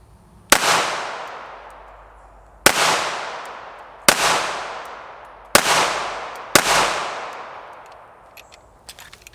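Five sharp pistol shots from a Canik SFx Rival competition handgun, fired one at a time at uneven intervals of about one to two seconds, each loud crack trailing off in a long outdoor echo.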